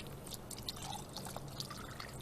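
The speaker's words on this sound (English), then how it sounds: "you want the other person to pour it into the bottle" Water from a storm drain being poured into a 100 ml sample bottle, a soft continuous trickle with small drips, close and fairly quiet, no voices.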